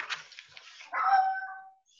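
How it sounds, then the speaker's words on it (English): A small dog lets out a few quiet yips and a short whining bark in a room, faint and close, with no talking over it. "Sorry, that's my dog."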